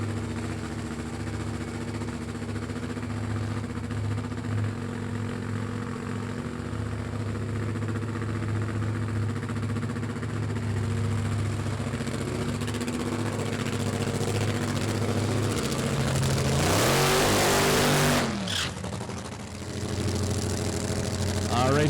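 A 1969 Z28 Camaro drag car idles at the starting line of a State Capitol Raceway funny car championship, a steady, close, rumbling idle that holds level before a brief louder surge near the end.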